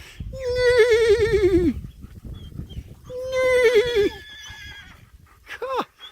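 Two loud, drawn-out horse whinnies close by in the Dominican Republic, followed by a shorter snort-like call, with quiet gaps between.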